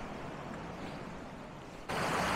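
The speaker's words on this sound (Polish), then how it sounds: "Taki mały wodospad się tutaj robi." A small waterfall of running water on a trail in Carding Mill Valley makes a soft, steady hiss that swells abruptly louder and brighter near the end, with no talk.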